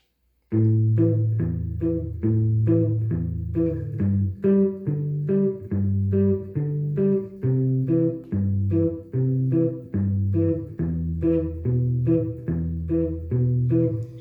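Fingerpicked acoustic guitar plays a flowing chord progression, individual notes plucked in a steady even rhythm, clear and close, with no voices.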